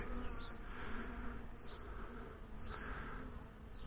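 Honey bees buzz steadily in a nuc hive frame as they clean out nectar, a dense continuous drone of many insects close by with slight swells in pitch.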